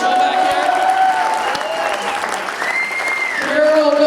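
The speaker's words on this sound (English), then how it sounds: "A round of applause for Carol Shockley running the whole show back" Audience applause and cheering at a conference fill the room for an organizer being honored, steady and fairly loud, with voices and whoops mixed through the clapping.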